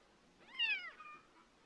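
A cat gives a single short, thin meow, close and clear against a quiet indoor background.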